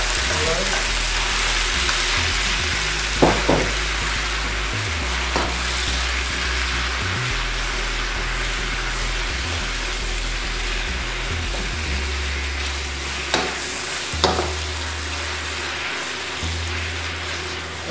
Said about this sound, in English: The oil is pretty hot right now, so let's go ahead and add the meat.